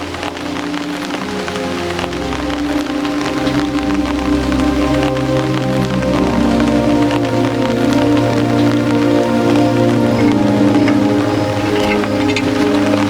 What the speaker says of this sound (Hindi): बारिश भी काफ़ी तेज़ होने लगी है